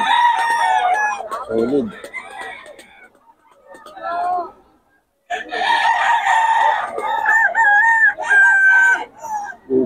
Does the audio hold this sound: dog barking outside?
no